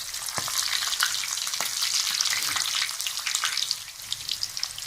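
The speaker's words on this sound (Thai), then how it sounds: "ตอนนี้ก็เอากุ้งที่ชุบแป้งลงไปในกระทะนะครับ" Batter-coated sea shrimp dropped into hot oil in a pan over medium heat, a bright, dense crackling sizzle with a few sharp pops and splashes, loud and close, fading slightly near the end.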